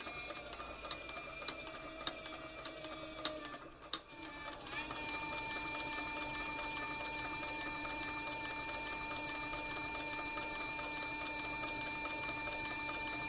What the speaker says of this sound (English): See, my bobbin winder over here is winding the bobbin as I sew this flank strap right here.